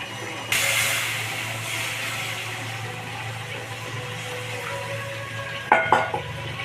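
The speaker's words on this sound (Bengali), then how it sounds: "এবার আমি জল দিয়ে দিচ্ছি।" Water pours into a hot pan of katla fish kalia, where a sudden sizzle and hiss rises and then settles to a faint simmer, ending with a few close clinks of a utensil on the pan.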